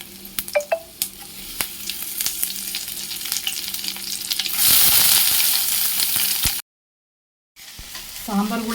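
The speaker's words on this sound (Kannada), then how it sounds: "ಸಾಂಬಾರು ಕುದ್ದಿದ್ದಾಯಿತು ಇವಾಗ ಇದಕ್ಕೆ ಒಗ್ಗರಣೆ ಹಾಕ್ಬೇಕು" Whole spices and greens crackle in hot oil as a tempering for sambar, a bright, steady sizzle with scattered pops and stirring clicks, close by, swelling louder before a sudden brief silence.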